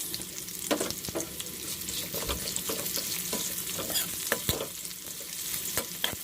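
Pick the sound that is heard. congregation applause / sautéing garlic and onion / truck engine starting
sautéing garlic and onion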